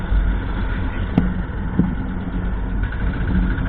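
An old 1998 Bullet diesel motorcycle engine runs with a steady low chugging rumble, close by, with a couple of sharp clicks partway through.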